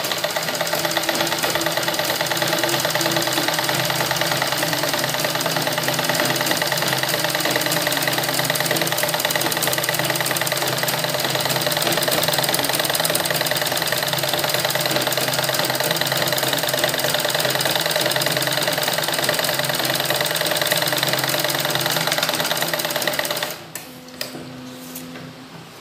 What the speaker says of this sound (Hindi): ओके चलिए हम सिलाई करके दिखा देते हैं आपको, ध्यान से देखिएगा।